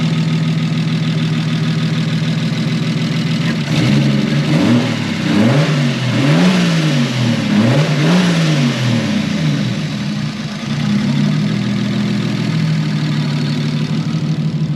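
Long-idle car engine running with a possible sticky lifter, idling steadily, then blipped through several quick rising and falling revs before settling back to a loud, even idle.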